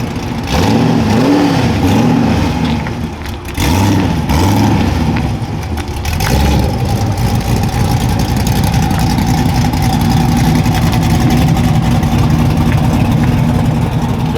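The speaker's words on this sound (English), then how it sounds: "Another Corvette pulled up to the spot." A Corvette rolls up at a nighttime car meet in Montvale, New Jersey, its engine loud and close, with rumbling revs that rise and fall in the first few seconds before settling into a steady idle drone.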